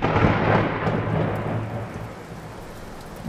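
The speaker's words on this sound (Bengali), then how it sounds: "খুব ঝড় বৃষ্টি আসছে, ওই দেখো।" A thunderstorm with heavy rain and rumbling thunder, used as a sound effect in a Bengali radio drama, loud at first and gradually easing into a steady, dense downpour with no voices.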